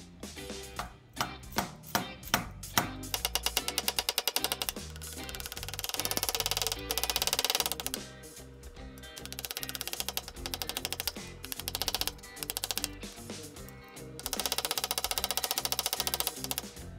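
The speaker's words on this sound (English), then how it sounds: "I'm really kind of amazed at how well this chisel is working in the aluminum." Chisel cutting aluminum, a rapid rattling stream of sharp clicks and chattering bursts, loud and close, broken by short pauses between passes, with no talking.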